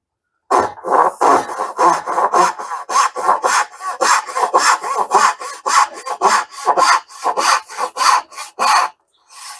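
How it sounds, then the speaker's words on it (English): A Veritas dovetail saw with 20 teeth per inch cuts wood, making a rhythmic series of about twenty close, crisp rasping strokes back and forth. The sawing is loud and heard alone until it stops just before the end. "First, I'll start with the Veritas saw, and we'll do this one on the far end."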